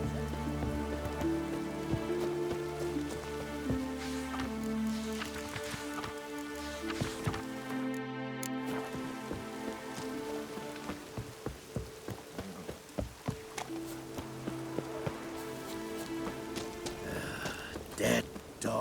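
Steady rain in The Witcher 3: Wild Hunt patters across surfaces throughout, with scattered droplet taps, low ambient tones and a brief dropout midway.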